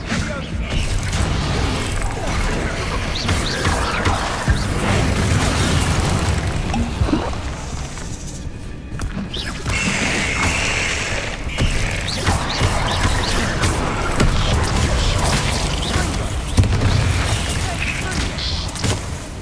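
Bombarda spell blasts in Hogwarts Legacy, repeated booming bursts and crackling impacts within a dense, continuous battle din, with a voice shouting over the fighting.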